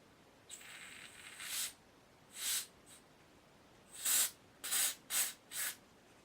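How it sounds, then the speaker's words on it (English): An aerosol can sprays into a hole in a Dansette Automix record player in a series of hissing bursts, one longer spray followed by several short puffs, close and fairly quiet. "See if we can spray some spray up it."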